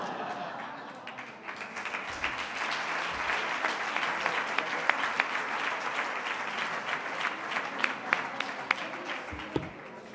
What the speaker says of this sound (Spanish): aplausos insuficientes, empiezo otra vez la conferencia